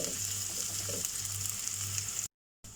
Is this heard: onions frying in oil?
yes